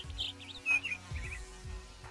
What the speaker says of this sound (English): Does the bird follow me around?